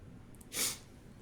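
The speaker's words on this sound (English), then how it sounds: "Got the sniffles." A single quick nasal sniffle from someone with a pollen allergy, close and fairly quiet, with a brief burst of breathy noise.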